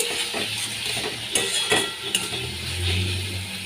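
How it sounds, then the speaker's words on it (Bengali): Potatoes being sautéed in a pan with a spoonful of Kashmiri chili powder, with a steady soft sizzle, repeated scraping and stirring strokes, and a few sharp clinks of a utensil against the pan, close up and with no talk. "এক চামচ কাশ্মীরি লঙ্কা গুঁড়ো দিয়ে দিলাম আলুগুলোকে এর মধ্যে দিয়ে আমি কষিয়ে দিচ্ছি"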